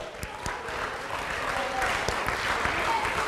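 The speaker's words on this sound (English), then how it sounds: "Okay, give him a round of applause as he comes up." Audience applause rises and holds steady as a teacher walks up onto the stage at a school lecture, a broad wash of clapping with scattered sharper hand claps throughout.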